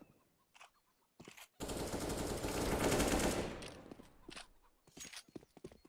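An AK rifle fires in a competitive first-person shooter game, a dense burst of rapid automatic shots lasting about two seconds, with scattered lighter in-game clicks and footsteps before and after.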